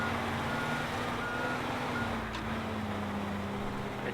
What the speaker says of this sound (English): See if this truck can help me.